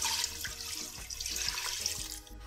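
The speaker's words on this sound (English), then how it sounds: "just wash out the pan with some water, which I'm going to throw into this" Water splashes and gushes steadily into a pan while making Jamaican oxtail, a continuous close rushing pour with no talking.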